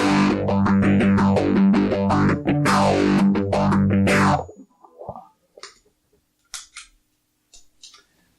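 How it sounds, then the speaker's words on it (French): Electric guitar run through a wave-like modulation pedal stacked with distortion on a worship pedalboard, playing loud sweeping swirling chords for about four seconds, then cutting to near silence broken by a few faint clicks and soft handling noises. "ça fait vraiment un son toujours en forme de vague avec la disto"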